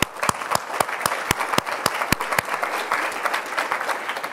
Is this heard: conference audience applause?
yes